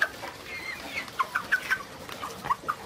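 Seven-week-old broiler chickens cluck in a poultry house, with short soft clucks repeating irregularly over a low background hum.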